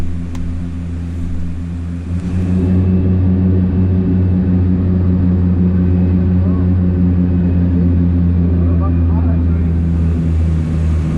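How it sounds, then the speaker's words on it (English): Steady, loud engine and propeller drone heard from inside a small aircraft making its approach and landing on runway 23 at Glasgow airport, continuous throughout with no talk. "We eventually made an approach and landing to runway 23 here at Glasgow."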